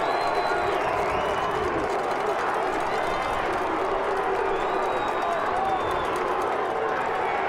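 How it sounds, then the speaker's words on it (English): A loud high school football crowd at a Massillon Tigers versus Canton McKinley Bulldogs game roars continuously in the stadium, a dense blend of cheering, clapping and babble with scattered whistles, steady from start to finish. "As you can hear, the crowd is getting loud on both sides of the ball"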